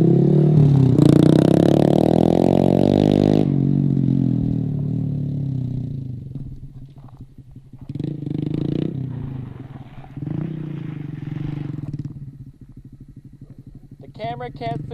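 A four-wheeler ATV engine revs hard and loud nearby, then drops to a rough, puttering run with some clattering. It rises again in short bursts while people talk around it in a yard.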